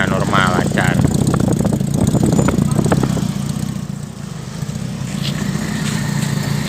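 Engine of a 1980 Toyota Kijang KF-10 pickup running at a steady idle, a loud, continuous low rumble close by while someone talks over it.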